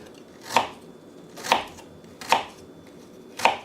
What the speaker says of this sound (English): ginger, just cut it up into into small pieces